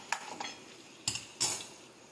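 Boiled potatoes stirred with a metal spoon in a pan off the heat, a few sharp scraping clinks spaced apart, close and fairly quiet.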